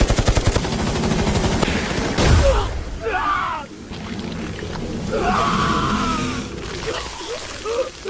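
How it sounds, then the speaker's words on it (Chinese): Rapid gunfire bursts crackle through a fast-paced animated drama scene, a dense rattling volley in the opening seconds followed by a heavy blast, then shouts, groans and other chaotic effects over a swelling backdrop. "开火！ 开火！"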